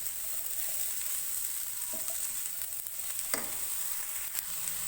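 Vegetables being stir-fried for chicken fried rice: cabbage, capsicum and spring onion sizzling steadily in a hot pan, with a few soft scrapes and stirring clatters over the constant hiss.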